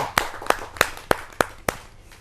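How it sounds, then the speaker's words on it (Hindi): Hands clap to welcome a poet at a Hindi kavi sammelan poetry gathering, six sharp, evenly spaced claps ringing out close and clear with a little room echo. "आइए जोरदार तालियों से स्वागत करते"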